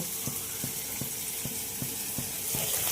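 Sliced onion and a whole dried red chilli sizzle steadily in hot oil, a constant hiss with faint regular ticking pops, close and fairly quiet with no voices.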